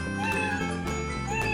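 A cartoon cat meow sound effect plays in a Scratch coding program, a clear, loud, drawn-out meowing with a couple of wavering cries close up and alone.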